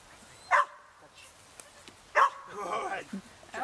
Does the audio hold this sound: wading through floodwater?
no